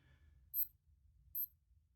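A quartz wristwatch alarm chirps twice in short, high electronic bursts about a second apart, close and clear over a faint low hum.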